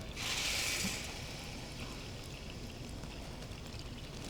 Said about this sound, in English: Ready to add the water?